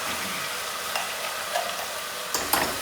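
Spoon stirring in hot frying oil in a home kitchen, a steady broadband sizzle with occasional metallic scrapes and clinks, close and continuous with no talking.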